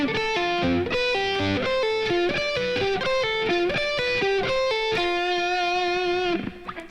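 Electric guitar playing the third section of a keyboard solo, adapted from keyboard: quick, steady runs of repeated and changing notes, loud and upfront, heard alone with no talking until a short fade at the end.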